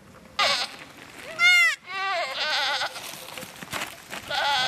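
Goats bleat on a migrating shepherd's trail, a few loud, wavering cries in quick succession, close by over a faint background murmur.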